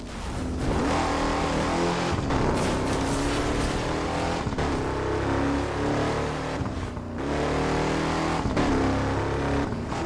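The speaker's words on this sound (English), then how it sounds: "Drive at a ramp at top speed, then hit the e-brake to give your car some spin as it launches." A car in Burnout Paradise Remastered roars at top speed toward a ramp and launches, the engine loud and steady with brief cutouts and whooshing wind noise across the stretch, no voices.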